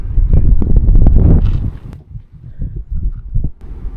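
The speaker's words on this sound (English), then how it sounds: "The wind is so lovely." Gusty wind buffets the microphone outdoors on a hilltop overlooking a city in Vietnam's Central Highlands, loud rumbling bursts that surge and then ease off.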